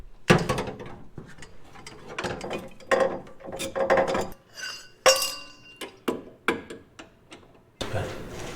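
Metal clicks, clinks and short ratcheting bursts from a 6-point socket wrench working a slightly rounded suspension bolt on a 1973 AMC Hornet, coming in irregular spurts close by in a garage.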